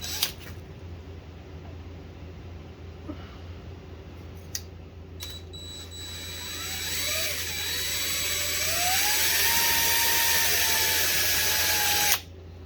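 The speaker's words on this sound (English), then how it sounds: "now I get a nice drill point to start with there with the center drill" A machine tool whirs up as a center drill cuts into a metal rear axle part, the pitch rising and holding steady, a loud drone that stops abruptly.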